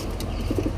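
A female pigeon gives a few soft, quick coos, close by over a constant low background rumble, all within under a second.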